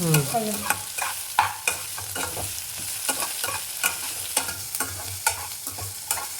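Onion and ridge gourd frying in a pan, with a soft steady sizzle under frequent rhythmic scrapes and clinks of a stirring spoon, close and fairly quiet, with no talking.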